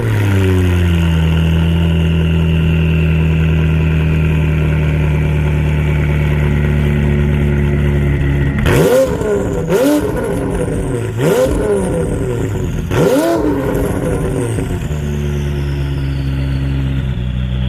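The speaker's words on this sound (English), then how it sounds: "Let's get a couple of revs" A McLaren 570S engine idles steadily, then revs sharply three or four times in quick bursts before settling back to idle, loud and close.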